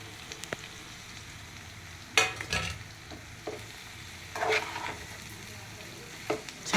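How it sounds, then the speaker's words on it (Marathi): Fried okra and potatoes stirred in a pan, with a few scraping stir strokes over a soft, steady sizzle, close and fairly quiet. "छानपैकी मिक्स करून घ्यावी."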